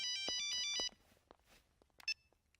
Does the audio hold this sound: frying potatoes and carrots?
no